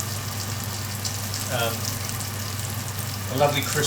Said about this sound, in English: We are just frying off the flour to make a lovely crispy